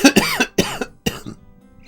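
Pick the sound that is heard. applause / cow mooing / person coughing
person coughing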